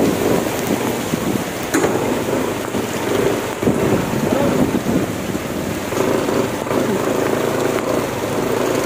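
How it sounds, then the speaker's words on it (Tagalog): Heavy rain pours during Typhoon Vicky in Bislig City, a loud, steady broadband roar with gusting wind buffeting the microphone throughout. "Ulan."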